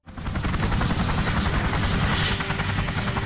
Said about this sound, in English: As a helicopter comes in, Hudson gets out and explains to him the current situation.